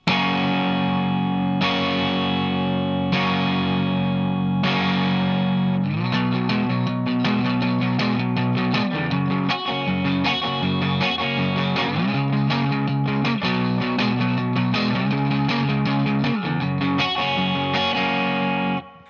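Distorted electric guitar chords with a chorus-like shimmer, first struck and left to ring, then strummed repeatedly in a steady rhythm.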